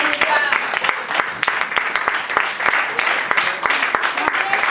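A church congregation claps loudly and steadily, with dense, near applause from many hands throughout and speech faintly mixed in.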